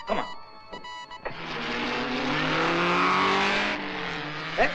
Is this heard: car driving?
yes